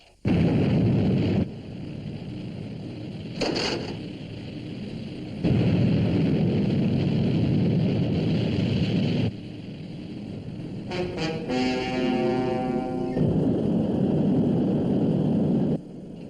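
A rocket engine ignition and launch from the Fireball XL5 television series comes as several loud, deep roaring blasts separated by quieter gaps, with a warbling tonal effect in the middle.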